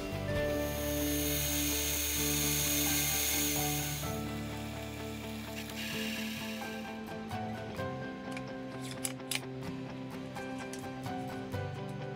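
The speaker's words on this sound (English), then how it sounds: "the lower hole can be drilled and tapped for the suspension post, and the upper hole drilled and reamed to accept the regulator." Small machining on a clock suspension post, drilling, tapping and reaming holes: a loud steady hiss and whir from the machine for several seconds, then quieter grinding with scattered light metallic ticks and clicks.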